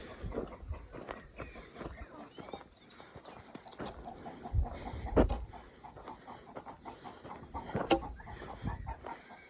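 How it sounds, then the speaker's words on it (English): Chickens cluck and squawk around a farmyard where the fence is down, in scattered bursts with some louder peaks, mixed with outdoor noise and brief handling sounds. "Hey, look at all the chickies."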